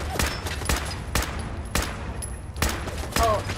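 Weapon fire against a turret in Fallout 4, heard as a steady series of about seven loud single shots spaced roughly half a second apart, with a brief whine near the end.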